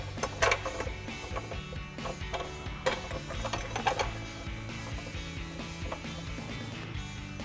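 A ratchet clicks in short bursts while tightening 13mm bracket bolts on a 2015-2024 Mustang during a lowering spring install, with metallic clatter between strokes and no talk.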